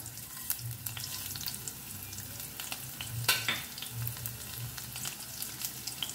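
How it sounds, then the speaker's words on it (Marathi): Mustard seeds and cumin fry in hot oil, giving a steady, close sizzle with scattered sharp crackles and one brighter pop burst midway, over a faint low hum. "तो सासवां आनी जिरा हांगासर फ्राय जाल्ले आसा"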